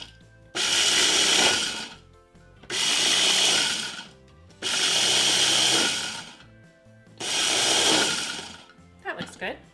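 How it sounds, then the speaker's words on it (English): A kitchen machine coarse-grinds peanuts for cookie dough in four loud bursts of whirring and grinding, each roughly one to two seconds long and separated by short pauses, with a little rattling at the end. "The first thing I need to do is coarse grind some peanuts, just to give my cookies a little bit of texture."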